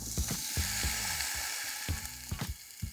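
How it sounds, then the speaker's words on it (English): A potato sizzles as it cooks pressed down inside a waffle maker, a steady frying hiss with faint clicking and creaking of the appliance, close up, with no talking. "Pop the potato in your waffle maker, press it down and let it cook for about 7 minutes."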